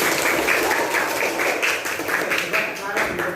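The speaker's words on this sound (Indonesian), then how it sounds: "Sekali tepuk tangan untuk kita semua" A class of students in a teacher-training session claps together in a patterned, rhythmic beat, evenly spaced bursts of hand claps, loud and close, with a voice speaking over them.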